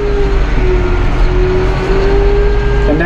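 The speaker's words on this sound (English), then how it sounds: "We speed up our engine" Massey Ferguson 5700 Global Dyna4 tractor with an AGCO Power engine, a loud, steady diesel drone close by, its pitch holding level and edging slightly higher toward the end.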